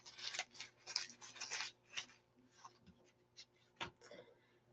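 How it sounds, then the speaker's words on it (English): A sheet of paper is crumpled by hand at close range, giving quiet, irregular bursts of crinkling and crackling that thin out toward the end. "crumple up a piece of paper like this"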